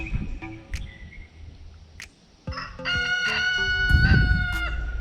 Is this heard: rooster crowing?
yes